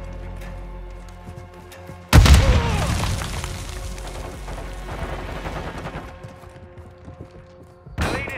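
A grenade detonates during a Call of Duty Mobile deathmatch, a loud sudden boom whose rumbling blast decays over several seconds, followed near the end by another sharp impact.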